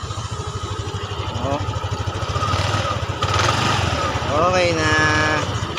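A Yamaha Aerox 155 scooter engine runs steadily after being fixed, a continuous close motor drone throughout with voices talking briefly over it.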